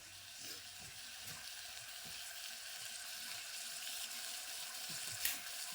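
Chili spice frying in hot oil before raw cut potatoes go in, a steady close sizzle with faint clinks, alone without talk.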